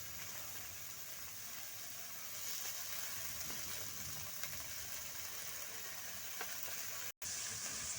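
Water lily stems fry with onions in a pan, giving an even, close sizzle and crackle that runs throughout, broken by a momentary cut near the end, with no voices.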